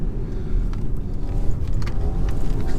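BMW 320 engine under a hard launch, heard from inside the car as a loud, steady low rumble and drone with no pause.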